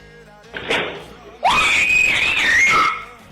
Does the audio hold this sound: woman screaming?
yes